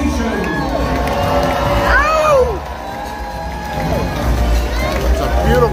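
Crowd at a Medieval Times dinner tournament cheering and whooping for the horses, children shouting and high excited voices over a loud, steady arena roar, with clapping mixed into the noise.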